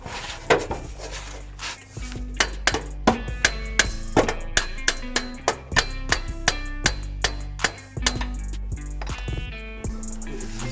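Hammer tapping at the back of a VW Golf GTi 16v exhaust, a steady series of sharp metallic knocks, close and loud, roughly two or three per second with brief ringing after each strike.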